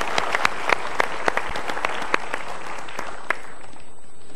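An audience claps together in steady applause, with sharp individual claps standing out before it thins toward the end.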